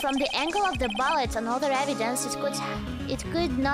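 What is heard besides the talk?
No distinct noise like a dog, phone or traffic.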